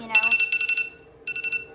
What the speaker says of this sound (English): with that alarm going off like that